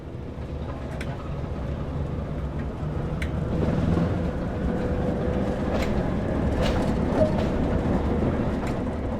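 A Class 37 diesel locomotive in Train Sim World pulls away from a standstill on the Tees Valley Line, its engine a steady low rumble that swells slightly as power builds, with faint clanks and squeals over the drone.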